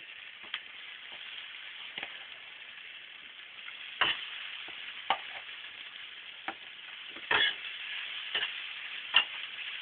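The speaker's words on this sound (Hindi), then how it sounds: "गरम किया है और हमारे जो उबाल के कटे हुए लहसुन को डाला" Boiled chopped garlic frying in hot oil in an Indian home kitchen, a steady soft sizzle with occasional louder pops and stirring clicks, fairly quiet throughout.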